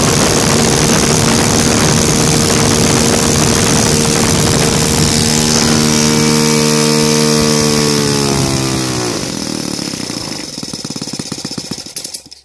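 A Saito FA 115 four-stroke model aircraft engine, converted to gasoline with CH ignition, roars loud and close at full throttle, its pitch rising steadily before the revs drop off sharply near the end.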